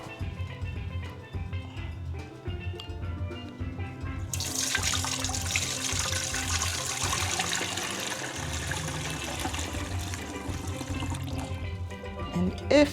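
Liquid from sorrel pulp pours and splashes steadily through a strainer, a continuous watery rush beginning partway through, with a quiet voice and faint background sounds underneath.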